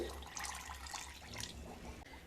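A cup of water poured into a mixing bowl of semolina and sour yogurt for bun dosa batter, a faint close trickle and splash lasting a couple of seconds, quiet and alone.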